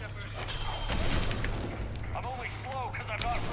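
Heavy gunfire aimed at Kai Leng during a fight in Mass Effect 3, a few booming shots over rumbling game sounds.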